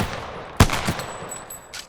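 A gunshot burst in the Apex Legends video game, fired while the player strafes: one sharp loud shot followed by a couple of quicker, fainter pops, with a thin high whine trailing through the rest.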